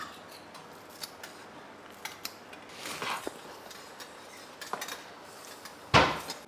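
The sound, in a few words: cutting coriander leaves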